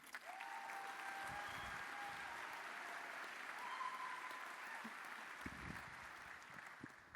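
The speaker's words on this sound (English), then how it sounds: "a huge round of applause for French Roomba" Conference audience applause at a hacker event closing session: a sustained, even wash of clapping from a large crowd, heard from some distance and fairly faint, with no talk over it.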